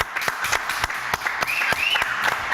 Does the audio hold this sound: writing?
no